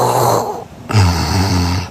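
A husband snoring loudly at close range: a rough inhale, a short pause, then a deep, buzzing, honking snore with a strong low drone.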